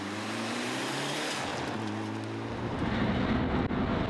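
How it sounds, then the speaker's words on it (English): A Mitsubishi Evo 6 rally car runs on a forest stage in the Cork Forestry Rally, its engine a steady, loud roar with wind rush, the pitch shifting as it passes. "Paul Barrett, who could be forgiven for being a little over-eager at times in his Mitsubishi Evo 6"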